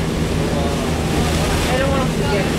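A boat crosses Sun Moon Lake in Taiwan with a continuous loud rush of water and wind buffeting close to the microphone, over a low engine rumble and no clear talk.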